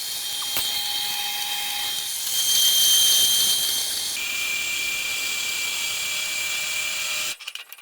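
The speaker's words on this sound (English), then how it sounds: "It's important to grind off the surface of the galvanised tube when you're welding" An angle grinder takes the galvanised coating off a steel tube before welding, a steady loud high whine with a brief surge in the middle, running continuously and cutting off near the end.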